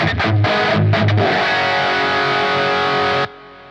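Distorted electric guitar chords ring out through a Spark40 amp, a few choppy strums then a sustained chord that cuts off abruptly near the end.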